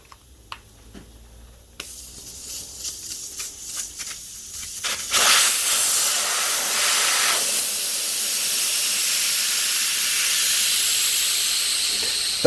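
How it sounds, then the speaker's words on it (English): Air hisses out of a deflating Suzuki DR200 motorcycle tyre, close and loud. A broad, steady rush begins after a few seconds of light clicks and handling noise and holds for the rest of the clip, easing only slightly. "So I'll deflate the tyre."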